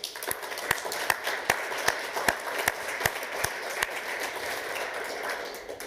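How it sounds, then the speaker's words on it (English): An audience at a digital health working session claps for the presenters, a steady run of evenly spaced claps over a soft background hiss. "I think we can give them a round of applause"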